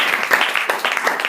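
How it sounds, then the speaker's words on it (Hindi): A church congregation at a Saturday worship meeting claps together in a quick, dense burst of handclaps, loud and close, with uneven rhythmic peaks over a short stretch. "बरताली बजाकर पढ़ो"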